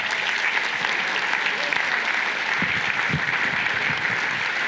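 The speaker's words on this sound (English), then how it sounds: "please do keep that applause going as Sages, Emily and Alice join us down here." An audience at a startup demo day applauds steadily and loudly throughout, a dense, sustained wash of clapping from a full room with a few sharper individual claps standing out near the end.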